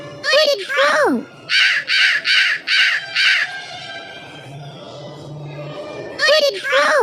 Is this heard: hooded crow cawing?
yes